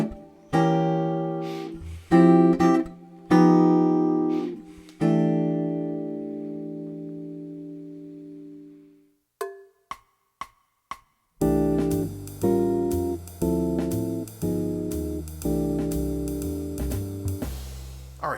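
Jazz guitar comps a 1-6-2-5 progression in rootless voicings with altered dominants, a few struck chords first, then a brief pause and a steady rhythmic run of chords, close and clear.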